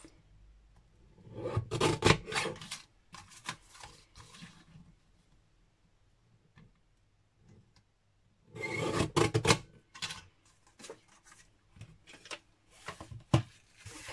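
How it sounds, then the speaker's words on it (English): Mini paper guillotine trimming cardstock for a handmade birthday card, close, dry rasping slices in two short bursts separated by quiet handling and small taps. "I have my mini guillotine here, but you can just use scissors to chop this off."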